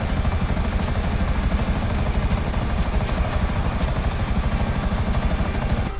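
A helicopter in GTA 5 Online makes a dense, steady rotor clatter and engine roar that sits close and loud throughout, with no talking.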